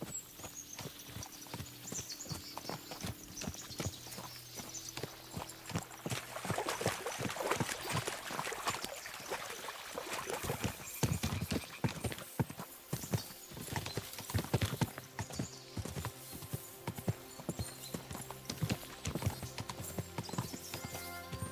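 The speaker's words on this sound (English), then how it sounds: "As soon as we cross the stream, we'll give the horses a gallop again." Horses gallop in the medieval video game Kingdom Come Deliverance II, a dense, steady rush of hoofbeats with an occasional whinny over constant outdoor ambience.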